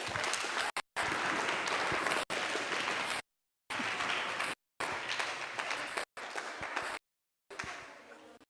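A crowd of young voices claps together in loud, dense bursts of applause, each burst stopping abruptly before the next begins.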